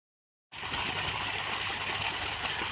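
Water from a solar-powered borewell pump bursts on abruptly after silence and gushes in a steady, loud, hissing stream.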